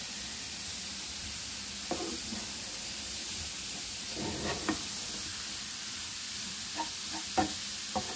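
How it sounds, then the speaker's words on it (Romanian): Vegetables for pan-cooked pies sauté in a frying pan over moderate heat, giving a soft, steady sizzle with occasional light scrapes and taps from stirring; no one speaks. "lăsăm pe foc circa 10 minute până se călesc foarte bine"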